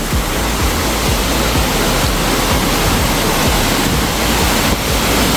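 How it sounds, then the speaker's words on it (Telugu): A mountain waterfall along the Kedarnath trek pours down in a loud, steady roaring rush of white noise, close and unbroken throughout with no voices. "ఇప్పుడే ముందర వాటర్ ఫాల్స్ అన్నీ వచ్చినాయి"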